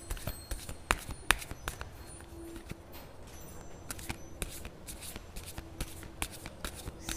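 Oracle cards being shuffled by hand, a quiet run of papery riffles and sharp taps, close and soft, with no one speaking.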